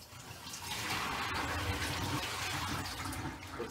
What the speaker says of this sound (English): I'm going to go ahead and dump out this pitcher full